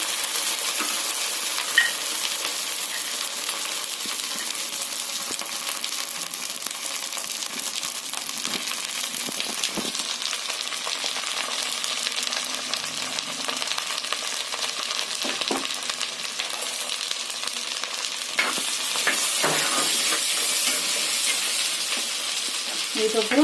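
Fennel, cinnamon, cloves and shallots frying in hot oil for a white kuruma, a continuous dense crackling sizzle close by with occasional stirring clinks, steady throughout, no talking.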